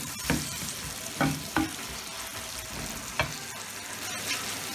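Chopped tomatoes with masala fry in a pan, a soft steady sizzle with a few scattered spoon scrapes and knocks, close and without talk.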